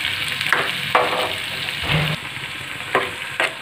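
Green chillies fry with onion and tomato for dhaba-style paneer bhurji. A close, steady sizzle is broken by several distinct stirring scrapes and one brief metallic clink in the middle.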